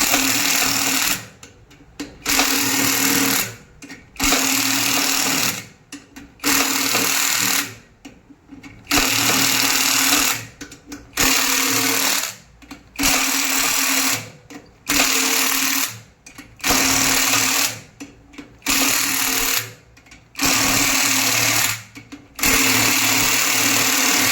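A power tool loosening the nut that holds the drum of a washing machine, loud whirring runs in repeated bursts of about a second each, separated by short pauses, close by.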